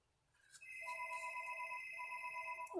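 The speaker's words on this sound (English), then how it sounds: "Oh, my phone's ringing." A mobile phone rings nearby with a steady electronic tone in a quiet room, repeating a short melodic pattern and sounding alone with no talk.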